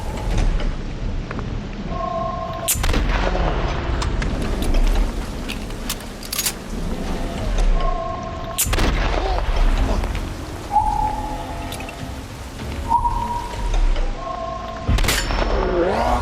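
Gunfire in The Last of Us, heavy booming shots that stand out sharply from a dense game soundtrack of rumble and tonal cues, with a few loud blasts spread across the clip.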